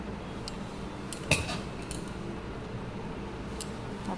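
Hot rice is served onto a plate with a single clear clink of spoon against the plate and faint soft scraping, quiet and close with no talking.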